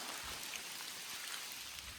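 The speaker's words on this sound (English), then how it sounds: "Hopefully the rain will stop in a little bit" Rain falls steadily at an Appalachian Trail campsite shelter, a soft, even patter with scattered drops striking nearby surfaces and no voices.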